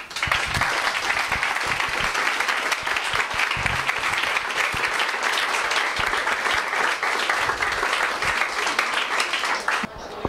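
An audience applauds after a talk, a dense, loud, sustained clapping that holds steady for about ten seconds before cutting off abruptly near the end.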